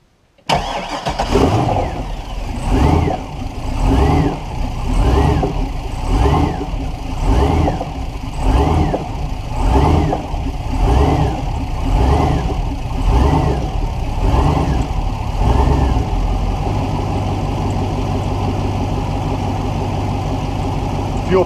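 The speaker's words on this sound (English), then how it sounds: "As I start the engine" Mastercraft boat engine with a failing fuel pump cranking through many rhythmic, laboring starter cycles, then catching and settling into a steady, close idle.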